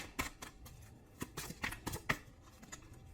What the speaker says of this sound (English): I'm just gonna shuffle these cards